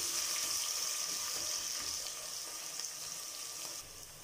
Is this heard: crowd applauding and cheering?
no